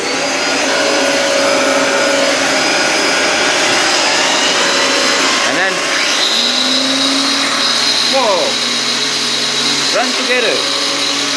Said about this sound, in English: First, turn on the vacuum,